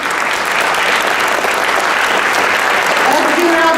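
An audience at a grand piano concert with sixteen pianos applauds the conductor, a dense, steady roar of clapping throughout, with a faint tonal note creeping in near the end.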